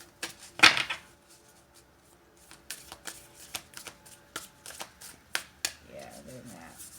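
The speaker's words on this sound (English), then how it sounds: "These cards are so sticky when I try to shuffle them." Sticky playing cards shuffled by hand, a quick riffle burst followed by scattered soft card flicks and taps, close and fairly quiet, with brief talk in between.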